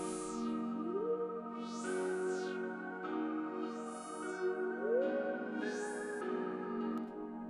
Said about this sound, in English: the melody with all 4 of those elements playing at the same time sounds like this